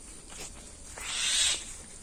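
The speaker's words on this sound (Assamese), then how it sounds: "এইটো চৰাই পোৱালি, ই আমাকে হাহাকাৰ কৰি আছে" A young chick unable to fly lets out a breathy, hoarse screech that swells and fades, preceded by softer rasps, heard close up with no talking.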